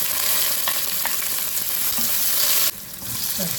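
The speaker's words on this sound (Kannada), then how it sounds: "ಮತ್ತು ನೋಡಿ ಆನಿಯನ್ ಹಾಕ್ಕೊಳ್ವ. ಇದು ಸ್ವಲ್ಪ ಫ್ರೈ ಆದರೆ ಸಾಕು" Onions fry in a tablespoon of oil for a prawn and spinach masala curry, giving a loud, dense sizzle with stirring scrapes and a brief drop in intensity near the end.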